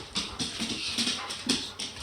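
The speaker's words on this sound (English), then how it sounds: "Sorry, that was my dog being naughty." A pet dog whimpers and yips in a rapid series of short, high cries, fairly close and clear with no talking over it.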